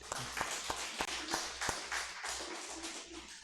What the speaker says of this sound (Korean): 우리 한번 하나님 앞에 영광의 박수.